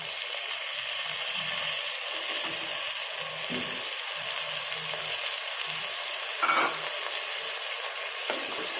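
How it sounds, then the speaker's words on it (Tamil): Chicken pieces sizzle and fry steadily in a pan over low flame while being stirred, with a continuous hiss and occasional soft scrapes and clinks, no talking. "இப்போ நம்ம சிக்கன் பீசஸ் ஆட் பண்ணிடலாம்."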